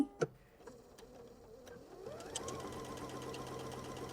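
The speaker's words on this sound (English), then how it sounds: "So let's sew this other side." Sewing machine stitching a quilt seam with a quarter-inch seam allowance, the fabric running against a raised moleskin guide; a couple of clicks come first, then a steady close mechanical whirring hum starts and runs to the end without any talk.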